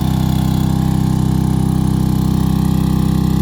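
A motor powering the hydraulics of an Eager Beaver folding neck trailer runs at steady, fairly high revs, a loud, even, pulsing engine drone close by with no talk over it.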